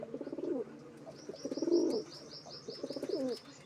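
Pigeons coo in three rhythmic, throaty bursts, close and clear, with faint higher chirps running above them.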